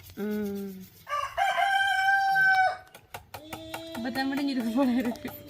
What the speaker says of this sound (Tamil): சேவல் அரம்புறமா கூவுது சொல்ல சொல்ல கூவுது